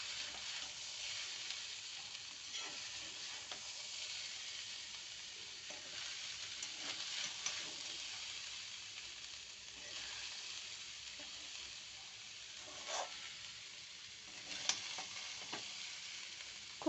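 Fried rice with cooked vegetables stirred in a frying pan, a steady soft sizzle with scraping strokes and occasional sharper clinks of the utensil against the pan, close and continuous with no talking.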